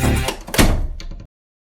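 A door shutting in the video game Garten of BanBan Chapter 2: a loud, close thud with a brief rattle, lasting about a second, then cutting off to silence, with no talk.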